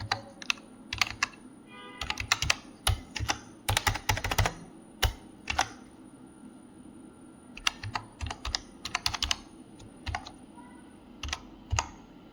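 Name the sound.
typing a password on a computer keyboard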